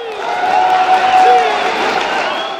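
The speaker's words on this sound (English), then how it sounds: "listen to that crowd cheer on the senior" A packed gym crowd cheers and applauds at a high school wrestling match, a steady, loud wash of yelling and clapping throughout.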